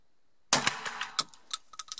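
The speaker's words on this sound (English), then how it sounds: "now we are going to shoot one cartridge" A single sharp shotgun blast firing a 32-gram sport cartridge loaded with number 6 pellets, sudden after silence, followed by a ringing tail and a few fainter echoing cracks and clanks.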